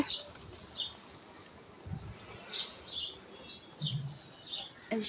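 Small chirps and tweets from pigeons and newly hatched racer pigeon chicks come in short bursts, with a few low soft sounds between them, fairly faint against a quiet background.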